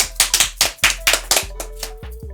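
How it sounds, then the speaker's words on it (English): Claps ring out close by on a podcast, about a dozen sharp, fairly evenly spaced hand claps, loud and dry, fading a little toward the end. "So I just want to give a clap to somebody on the podcast."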